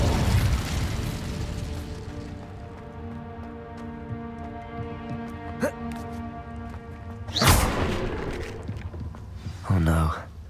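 Incendio fire spell cast in the Hogwarts Legacy video game, a sharp burst of flame at mid-clip followed by a second whooshing flare near the end, over a steady layer of game music and ambience.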